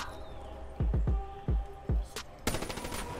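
Rapid bursts of video-game gunfire in a Call of Duty Black Ops 3 gun game match: several sharp, loud shots in an uneven volley, then a dense final burst, with no talk over them.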